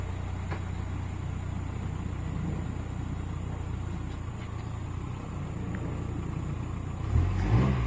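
A lowrider car's engine idles with a steady low rumble and revs louder near the end, heard up close with no talking.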